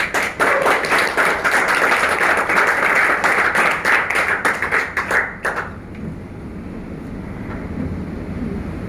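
Loud crowd applause greets a championship belt presented at a fight press event, dense clapping for about five seconds before tapering off into quiet room noise.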